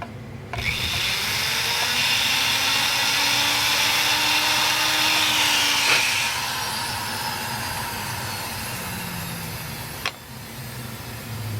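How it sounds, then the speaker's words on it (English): A pumice wheel spins against the edge of a wire rivet, giving a continuous loud whirring grind that holds steady for about ten seconds before cutting off sharply, then starting up again. "I'm going to go ahead with the pumice wheel, kind of clean up that edge."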